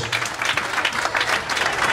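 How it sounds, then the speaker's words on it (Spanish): A crowd bursts into strong applause at a civic ceremony in Zacatecoluca, El Salvador, honoring the town's mayor, a short, dense, loud patter of many hands clapping together. "Fuerte los aplausos."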